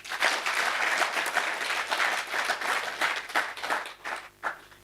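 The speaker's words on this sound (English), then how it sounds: "let us give them a hearty hand clap" Audience at an innovation competition breakout session clapping, a lively round of hand claps that swells, then thins out and fades with a few scattered final claps.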